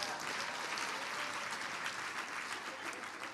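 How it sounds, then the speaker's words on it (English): Steady applause from a crowd at an annual general meeting, continuous clapping throughout with no pauses. "let's give her a hand of applause"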